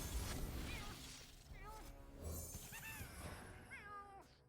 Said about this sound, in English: Fucking cats.